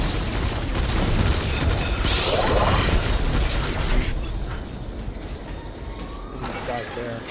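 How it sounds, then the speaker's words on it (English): Small drone blowing up during a shooter game session, a dense burst of booming, crackling noise amid gunfire and game effects that fades after a few seconds into quieter mechanical hum, with a player talking over it. "Tiny drone explosion!"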